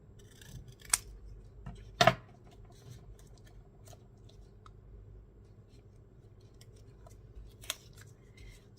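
Scissors snipping paper during card making, a few sharp isolated cuts spread across a quiet background with light paper rustling, close by.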